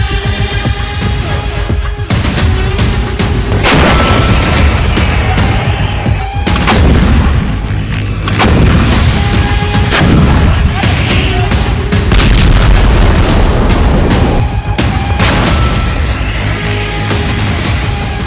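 Artillery shells fired in the Israel–Hamas conflict in Gaza give repeated heavy booms and blasts over dense, continuous rumbling noise, loud and sustained with some sharper reports.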